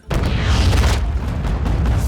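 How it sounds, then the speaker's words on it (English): A huge practical napalm explosion from the 2009 film Terminator Salvation, a sudden deep roaring boom that swells in and sustains as a loud, rumbling blast with crackling debris, heard alone. "This shot was achieved practically, with McG wanting an explosion bigger than Francis Ford Coppola's"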